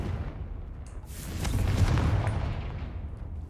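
A Confringo blasting spell goes off in the Hogwarts Legacy video game, a single rumbling explosion that swells around the middle and then rolls on as a low, continuous boom.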